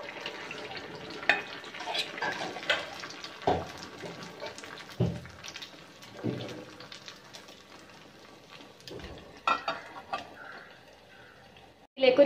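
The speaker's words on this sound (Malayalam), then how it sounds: "ബാക്കിയുള്ള മാവിടെ നമുക്ക് ചുട്ടെടുക്കാം." Leftover dosa batter cooking in a hot pan, a soft steady sizzle with scraping and occasional louder clinks of a utensil; a voice talks over parts of it.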